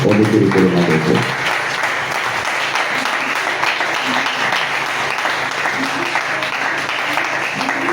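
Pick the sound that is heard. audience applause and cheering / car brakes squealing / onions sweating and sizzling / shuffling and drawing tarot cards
audience applause and cheering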